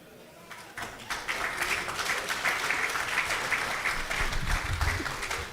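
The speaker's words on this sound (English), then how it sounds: "A round of applause for the DG." Applause from an investment forum audience bursts out after a quiet start and carries on as dense, steady clapping from a sizable crowd.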